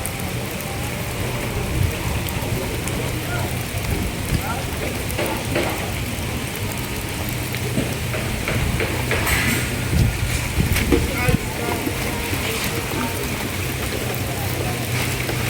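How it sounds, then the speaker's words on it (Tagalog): Rain falls steadily at the Diwata resort, a dense continuous patter of drops on surfaces, close and fairly loud throughout with small bursts of heavier splashing. "Lumalakas na ang ambon."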